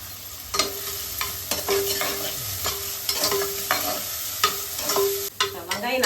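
Chopped shallots frying in oil for a Tamil fish curry, a constant sizzle broken by repeated scrapes and clanks of a spoon stirring against the pan.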